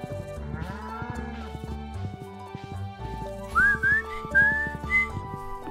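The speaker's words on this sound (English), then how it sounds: "I almost nailed my whistling." A character whistling a short rising tune in the Stardew Valley farming game, several bright whistled notes over cheerful game music with lowing cattle and farm animal sounds.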